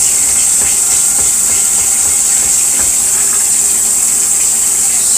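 A hot pan right after cooking, washed under hot water in a kitchen sink, giving a loud continuous hiss of steam and running water with a few faint knocks.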